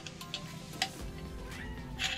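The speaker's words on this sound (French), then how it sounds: "Il y a le chat." A house cat meows a few times at close range during a toilet cistern repair, short rising cries over light background noise.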